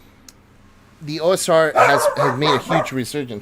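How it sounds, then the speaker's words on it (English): A pet dog barks repeatedly at close range indoors, a burst of yips and barks layered under someone talking about tabletop role-playing games. "He tends to bark at everything."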